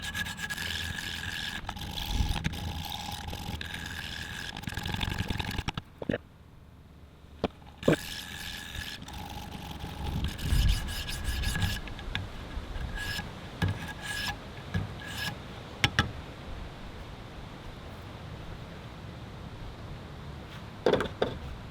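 Blade being sharpened on a 200 grit stone, repeated rasping strokes scraping back and forth in an irregular rhythm, close and fairly quiet, with brief pauses and a few sharp clicks between passes.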